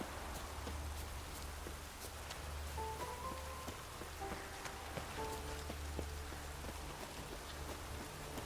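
Steady rainfall in The Witcher 3: Wild Hunt, a soft continuous patter of drops over a low rumbling bed, with faint background game tones and no talking.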